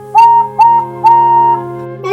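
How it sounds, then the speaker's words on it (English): Three short steam engine whistle blasts sound close and loud, each starting with a sharp rise and held briefly, over a steady mechanical hum. "Henry put on his brakes and wheezed through his whistle"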